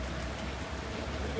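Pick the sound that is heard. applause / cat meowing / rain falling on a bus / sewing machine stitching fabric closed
rain falling on a bus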